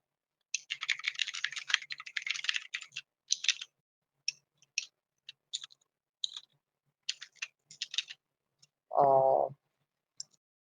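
Quiet bursts of typing on a computer keyboard, clustered in quick runs of key clicks with pauses between, close and clear, followed by a brief short tonal noise near the end.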